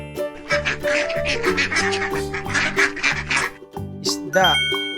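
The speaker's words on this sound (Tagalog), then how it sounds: "bibe, duck." A duck quacks over an upbeat children's tune with chiming bells, the calls short and nasal, with a brighter rising cry near the end.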